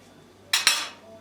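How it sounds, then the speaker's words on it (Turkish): A knife presses into a baked potato for kumpir and scrapes against a plate, giving two quick close clinking scrapes in a quiet kitchen. "Öncelikle bir bıçak yardımıyla yavaşça kesiyorum."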